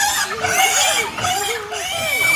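Piglets at Flic en Flac, Mauritius, squealing and grunting loudly and close up in a continuous stream of overlapping high, wavering calls.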